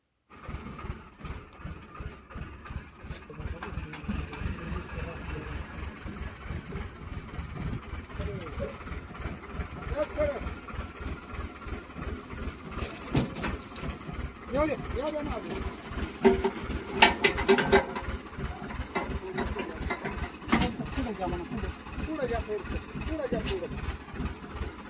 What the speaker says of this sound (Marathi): ट्रॅक्टर चालला आता आपलं कारखान्याला